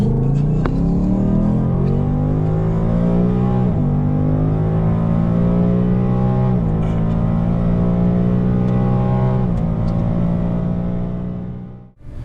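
A car running on E85 with a stock exhaust revs hard and climbs steadily through several gear changes, loud and close, with brief dips in pitch between each shift.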